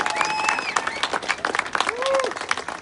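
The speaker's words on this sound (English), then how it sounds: "Ladies and gentlemen, a round of applause for Seth Burgley." Crowd applauding and cheering at an outdoor gun-rights rally, dense clapping with scattered whoops and shouted voices rising over it, moderately loud and sustained.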